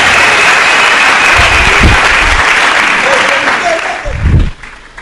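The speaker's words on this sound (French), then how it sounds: "Acclamez le Seigneur Jésus." A church congregation applauds in two short bursts of clapping amid a preacher's amplified voice and room noise, the first around the middle, the second louder near the end before the sound drops away.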